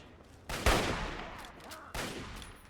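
Gunfire in the video game Fallout 3: two sharp shots about a second apart, each with a long decaying tail, loud and close with no talk over them.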